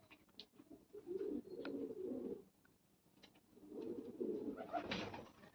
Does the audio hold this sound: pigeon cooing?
yes